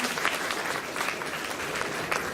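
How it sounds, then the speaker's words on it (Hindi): Sustained crowd applause fills a Brahma Kumaris ceremony hall in India, many hands clapping continuously at an even level from start to finish. "तालियां बजाएंगे"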